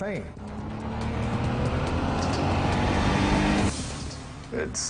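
A Ferrari sports car engine drones loud and steady at close range for most of the stretch, its pitch holding fairly even before a brief shift near the end; a voice may sound faintly beneath it.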